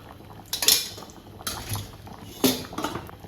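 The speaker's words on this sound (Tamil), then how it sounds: "தாளிப்பு கரண்டி வச்சாச்சு. கொஞ்சமாக எண்ணெய் சேர்த்துக்கிட்டு" A small tempering ladle handled on a stove for sambar, with a few clinks and knocks of metal utensils at a moderate distance, spaced out between quieter stretches.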